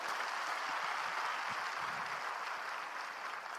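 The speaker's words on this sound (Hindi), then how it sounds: "वेलकम कीजिए एक बढ़िया ताली से नताशा को।" Applause from the audience at a business celebration, a steady dense wash of clapping for a few seconds, fairly distant and moderately quiet, with no voices heard.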